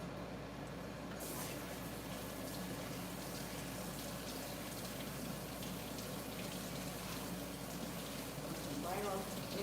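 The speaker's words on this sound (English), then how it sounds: "Let me rinse these off." Running water splashes steadily in a continuous hiss as items are rinsed off during kitchen dinner prep, close and even throughout, with a faint clink near the end.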